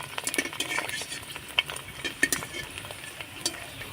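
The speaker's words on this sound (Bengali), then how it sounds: "তো তেলটাকে আমি মিডিয়াম গরম করে নিয়েছি ফুচকাগুলো ভাজার জন্য। এবার এভাবে করে একটু নাড়াচাড়া করতে হবে" Fuchka puffing as it fries in medium-hot oil, with a steady close sizzle broken by scattered scraping clinks of a utensil stirring through the pan.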